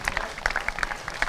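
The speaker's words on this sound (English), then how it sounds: "treated to a round of applause from their sponsors and their very loyal supporters on the balcony here" Brief applause from sponsors and supporters on a balcony at a Rovers v Panthers match, a close patter of scattered hand claps from a small group.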